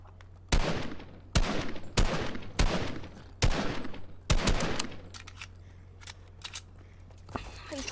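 Combat SMG fire in Fortnite rings out in loud, sharp bursts spaced about a second apart, each followed by a brief echoing tail, with quieter clicks and faint shots trailing afterward.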